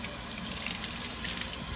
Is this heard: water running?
yes